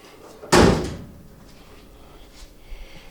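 The door of a 1965 Mustang under restoration closes with a single sharp, solid slam close by, then a brief fading rattle and quiet shop ambience.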